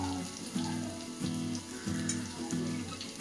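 Fennel seeds roasting in hot oil for a paneer pulao make a continuous low sizzle, with bubbling bursts and faint stirring scrapes coming back at a regular rhythm, close and quiet with no speech.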